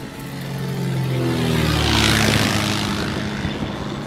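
A propeller airplane from inside the cockpit, a steady loud engine drone with a whirring propeller pitch that rises slightly and swells, continuous throughout with no voices.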